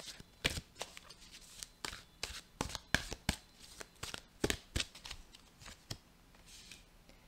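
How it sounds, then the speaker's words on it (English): Tarot cards being shuffled by hand, a run of crisp riffling bursts and soft slaps in an irregular rhythm, close and fairly quiet with no voices. "I'm going to do a little bit more shuffling"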